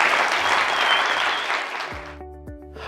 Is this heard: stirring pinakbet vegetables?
no